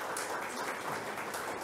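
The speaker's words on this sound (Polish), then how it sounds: "Wielkie brawa." An audience applauds steadily at an outdoor ceremony for the unveiling of a sculpture. The clapping is a dense, continuous wash at moderate volume and is heard on its own.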